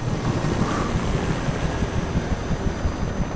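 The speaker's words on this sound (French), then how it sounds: "Putain ils envoient même un hélico." Helicopter in the video game Alan Wake, a steady low rotor rumble with broadband wind-like noise, fairly loud and continuous throughout, with no talking.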